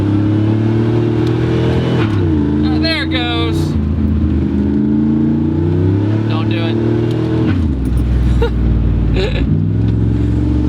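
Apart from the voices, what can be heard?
car accelerating, tires chirping on shift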